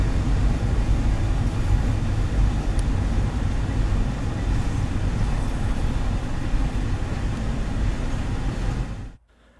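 A CPKC local freight train moving into a siding rumbles steadily with a low, continuous roar and faint metallic squeals, then cuts off abruptly at the end.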